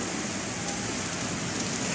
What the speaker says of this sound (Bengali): এই মুহূর্তে বাইরে প্রচুর পরিমাণে বৃষ্টি হচ্ছে